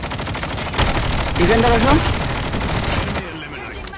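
Rapid gunfire crackles from a Bangladeshi team's scrim match in a shooter video game, dense bursts continuing steadily under excited voices calling to each other over voice chat.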